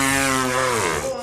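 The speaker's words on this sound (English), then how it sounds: "The chainsaw gun, it's a Lancer," A Lancer chainsaw gun from the video game Gears 5 revs loud and close, its steady whining harmonic tone holding for about a second before bending downward at the end.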